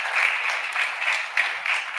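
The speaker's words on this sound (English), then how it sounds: "Let's also give them a round of applause." Audience applause for Kid Governor program participants at a Connecticut inauguration ceremony, a steady band of clapping that holds evenly throughout, thin and slightly tinny in tone with faint pulsing swells.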